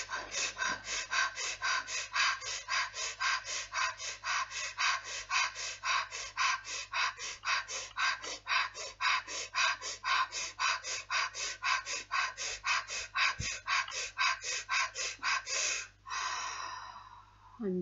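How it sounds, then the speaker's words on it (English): A single person performs Wim Hof method rapid breathing, a fast, even run of forceful breaths in and out, close and loud for many cycles before a final long exhale. "So here we go with the Wim Hof breath."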